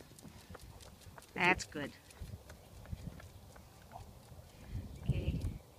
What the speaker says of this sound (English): Now can you jog him so we can get him at a trot?